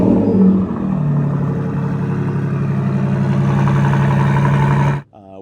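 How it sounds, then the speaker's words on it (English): A Bentley convertible of roughly 700 horsepower, fitted with an Akrapovic factory exhaust with deletes, runs with a loud, steady low drone and a brief rev at the start, then cuts off abruptly near the end. "This car has the Krapovic factory exhaust."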